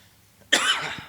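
One sharp, close cough bursts out suddenly during a church sermon after a moment of near silence.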